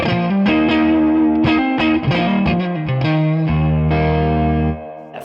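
Electric guitar through a Wet Dreams chorus pedal, a loud, close run of plucked notes and chords with a subtle shimmer, ending on a long sustained chord that fades, with no voices.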